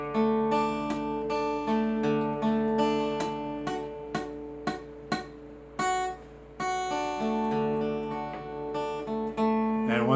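Guitar chords strummed repeatedly with one high string muted by a leaning fretting finger, giving a slightly dull, choked ring; close and alone, with several sharp single strums mid-passage.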